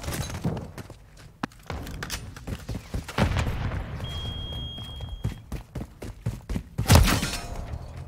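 A Call of Duty: Modern Warfare III firefight, with a grenade explosion and bursts of gunfire cracking in quick, irregular volleys, loud and close, peaking in a heavy blast near the end.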